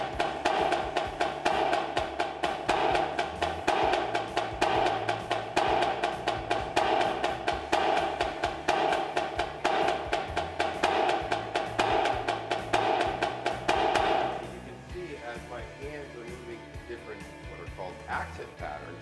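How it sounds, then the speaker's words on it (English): A drum kit plays a steady sixteenth-note moving accent pattern, the accent shifting across each beat while the feet keep time, loud and close for about fourteen seconds before dropping to quieter, sparser sound. "So we'll do the 16th note moving accent."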